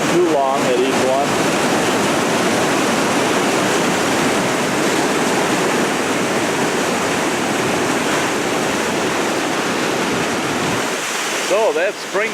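Spring Camp Falls roars as a loud, continuous rush of falling water close by, with wind buffeting the microphone; a brief faint sound breaks through near the end.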